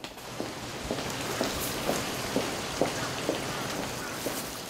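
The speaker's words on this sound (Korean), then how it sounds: "비가 오네? 비 온다." Rain falls in a steady, even hiss, with soft drops tapping at regular intervals throughout and no voices.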